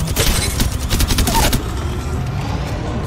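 In the Apex Legends video game, rapid bursts of automatic gunfire crack close and loud for about a second and a half, then give way to a quieter rumbling background.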